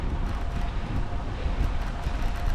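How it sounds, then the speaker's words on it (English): Wind on a warm 24-degree day buffets the microphone in low, uneven rumbling gusts, with a faint airy rush above and no voices. "Warm but windy, so not too bad."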